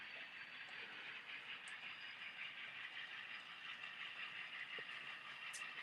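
A model ore train running on a layout, a faint, steady mechanical whir and rattle with a few light clicks, continuous and quiet with no talking.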